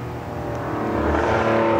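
A Ferrari 512M race car with a 12-cylinder engine, the 1970 Le Mans model, running at full speed down Silverstone's Hangar Straight. The engine drones loudly and steadily, swelling slightly as it builds.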